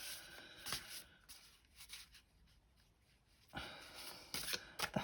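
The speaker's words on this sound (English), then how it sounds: "that's just me being shit at shuffling these cards," Soft papery riffling and light taps of cards being shuffled, in short uneven bursts with quieter gaps between, close by and fairly faint.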